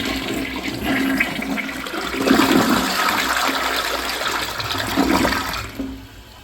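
A first-generation Gerber Avalanche toilet from the 2000s flushes in a rushing swirl of water that swells and then tapers off over several seconds, close by with no talking.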